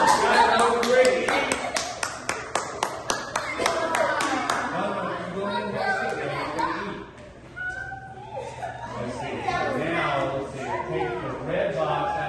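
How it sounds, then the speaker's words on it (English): An audience at an evening event for young performers gives a round of applause, with a burst of rhythmic clapping at first that gives way to chatter, chuckles and talking voices. "Give her a big round of applause."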